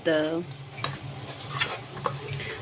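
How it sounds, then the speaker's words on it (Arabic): Bechamel mix being stirred into milk in a pot, with soft scraping and clinks of a spoon against the pot. A brief voice opens the clip, and the stirring stays quiet and close throughout. "اديله بس تقليبه كده"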